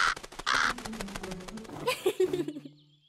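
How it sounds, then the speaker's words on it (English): A house crow calls out with several loud, harsh caws close by, repeated in quick succession, then followed by softer, lower croaking notes as the calls trail off. "I'm glad Zari got to meet her house crow friend again."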